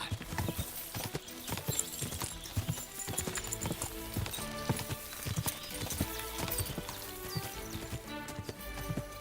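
Steady clip-clop of horse hooves trotting in the video game Kingdom Come: Deliverance II, loud and continuous, with occasional neighing mixed in.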